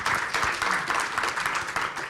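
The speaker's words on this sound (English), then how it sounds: "Applause, please, ladies and gentlemen." A conference panel audience breaks into applause, a dense, steady wash of clapping hands that carries on through the brief moment without any talk over it.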